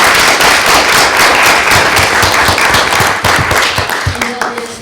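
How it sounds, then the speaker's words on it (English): Applause at a school committee meeting, loud and close, with sharp individual claps standing out in an uneven patter before it thins toward the end, where a voice begins. "I think a round of applause for these guys"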